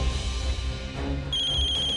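A telephone rings in an indoor drama scene, a loud electronic ring with a steady tone that brightens partway through, heard clearly with no talk over it.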